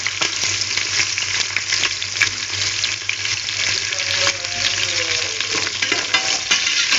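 Chopped onions frying in a pan with chillies for vegetable biryani make a loud, crackling sizzle right up close, with steady spatula stirring and small pops throughout, no voices.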